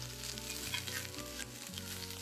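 Onions sizzling and softening in a hot pan for jackfruit tinga tacos, a steady close frying hiss with a low hum beneath, no talking.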